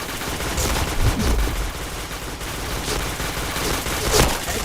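Gunfire in the shooter game Point Blank crackles in a steady, moderately loud stream of shots and bursts, with a couple of heavier impacts, under a busy game-sound bed.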